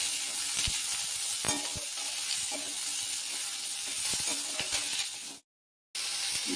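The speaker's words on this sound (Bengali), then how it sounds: "কুচনো পেঁয়াজ ক্যাপসিকাম একসাথে আমি দিয়ে দিচ্ছি। এগুলো একসাথে আমি একটু ভেজে নিচ্ছি।" Chopped onion and capsicum frying together in a pan for chana tadka, a steady close sizzle with occasional stirring clicks, a brief silent gap near the end.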